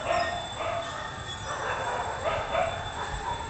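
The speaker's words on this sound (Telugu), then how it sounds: "మా వీధిలో కుక్కలు తెగ అరుస్తున్నాయండి" Street dogs barking and yelping at a distance in a busy neighbourhood lane, with a few barks rising over steady background noise.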